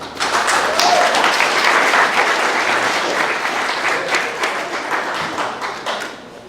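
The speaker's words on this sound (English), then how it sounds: "I think we ought to applaud that." Audience applause at a 150th-birthday founders breakfast, a steady wash of many hands clapping close and loud for several seconds, easing slightly toward the end.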